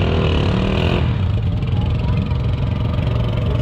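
A Jeep Renegade drives along an off-road trail, its mid-pitched engine humming steadily loud and near with slight revving changes, while people talk over it.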